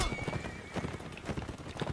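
In a Roman invasion battle video game, horses of the Roman cavalry gallop with a steady, busy clip-clop of hooves, and a whinny rises now and then. Noise from the fight and faint voices run underneath.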